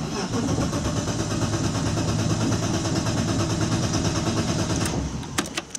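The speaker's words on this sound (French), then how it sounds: "on va la démarrer" Turbocharged BMW E36 drift car cranking and running up close, a loud continuous engine rumble lasting several seconds, followed by sharp clanks near the end.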